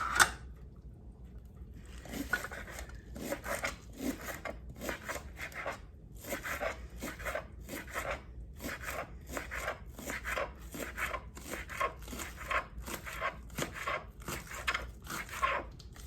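Vegetable tips are cut on a board during pasta cooking, a long run of steady, evenly spaced crisp chops after a brief pause, close and clear with no talking.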